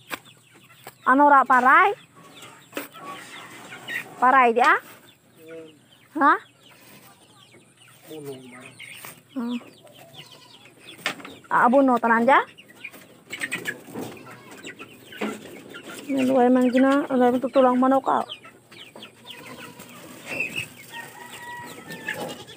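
Chickens cluck and squawk in several loud bursts close by, with quiet stretches between and people talking softly in the background.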